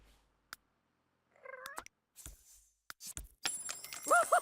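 Cats in The Sims 3 video game give a few short, close meows and purring calls, broken up by scattered clicks and game effects, and a louder meowing burst comes at the end.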